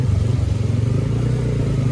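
A motorcycle chugs through deep flood water, its engine putting along in a close, rough, pulsing rhythm with a low rumble throughout.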